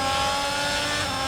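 Race cars accelerating at a restart in the F1 2022 video game at the Brazil round, a loud, sustained high-pitched engine whine layered from several cars, close and continuous throughout.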